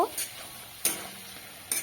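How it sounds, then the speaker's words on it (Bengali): Turmeric and chilli powder stirred into spices frying in a pan, three brief scraping strokes spaced evenly over a faint sizzle, close and quiet. "হলুদ গুঁড়ো লঙ্কার গুঁড়ো দিয়ে বেশ ভালো করে মশলার সাথে মিশিয়ে নেব"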